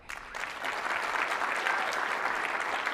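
Audience applause for the speakers at a conference session on digital employee experience, a steady dense wash of clapping from a sizeable crowd that starts abruptly and holds evenly throughout without talk.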